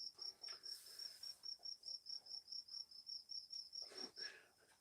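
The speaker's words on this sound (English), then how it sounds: "now we get crickets" Outdoor crickets chirp in a quiet night setting, a steady high-pitched trill pulsing in regular rhythm throughout, with a faint breathy sound near the start and end.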